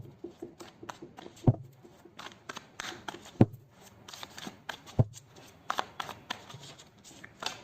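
Tarot cards are shuffled and laid out, with soft papery riffles and scattered sharp snaps as individual cards are slapped down at irregular intervals, quiet and close.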